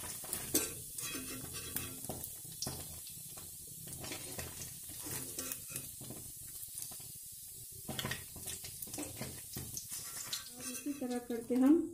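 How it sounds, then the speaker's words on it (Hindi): Paneer sizzles lightly in a hot pan, with continuous soft hissing and frying crackle, interrupted by stirring scrapes as a person talks. "पनीर को ज़्यादा फ्राई नहीं करना है, हल्का सा फ्राई करना है।"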